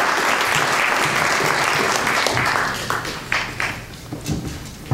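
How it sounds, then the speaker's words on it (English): An audience applauds as a university student is called to the stage, dense steady clapping that thins into scattered individual claps toward the end. "Mr. Tommy Walls, give him a big hand of round of applause"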